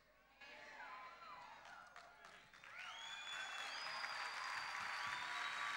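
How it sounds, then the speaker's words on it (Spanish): Audience applause at an evening church gathering in El Chaco, Argentina, rising from scattered clapping into sustained, dense clapping with a few whistles, steady and moderately loud to the end. "usted tiene que darle un aplauso grande"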